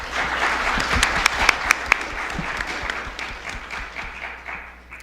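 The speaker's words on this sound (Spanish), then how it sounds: "Un aplauso también, por favor." Audience applause at an academic book presentation: dense, steady clapping from a crowd, with a few sharp individual claps standing out, sustained at an even level for several seconds.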